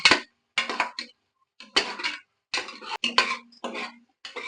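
A spoon scrapes and clinks against a cooking pan in short, separate bursts while vegetables and peas are stirred, with distinct pauses of silence between strokes, close and fairly quiet.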